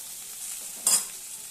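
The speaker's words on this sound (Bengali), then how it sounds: "এবার আমি সিদ্ধ করা মটরটা দিয়ে দেবো।" Boiled peas tipped into spiced masala frying in a pan, giving one brief sizzling burst and scrape about midway through. A steady, fairly quiet frying hiss runs before and after it, with no voices.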